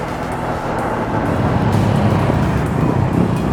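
Honda CB400 motorcycle engine at a workshop, a loud, steady low rumble that swells slightly partway through and holds without clear revving peaks.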